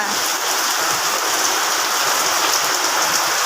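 Heavy rain pours down steadily, soaking a person and a pile of firewood, making a dense, loud, unbroken hiss of drops on surfaces nearby.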